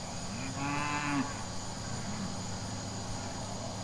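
A single cow moos once on a farm, a low drawn-out call heard at moderate distance over steady insect buzz and outdoor ambience, with the rest quiet.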